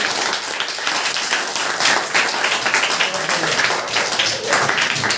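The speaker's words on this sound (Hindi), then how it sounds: "एक बार इन तीनों के लिए जोरदार तालियां," Applause from a classroom of children for three classmates who made teaching aids, a steady dense patter of clapping lasting throughout, fairly close, with some voices mixed in.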